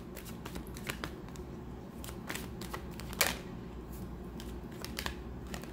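Tarot cards being shuffled during a Tower reading, a steady run of soft papery flicks and riffles with one sharper snap midway, close and fairly quiet with no talking.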